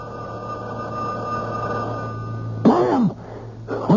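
A telephone rings as a sound effect in a radio mystery drama, a steady bell-like tone held for a few seconds before brief voices and breathy sounds break in.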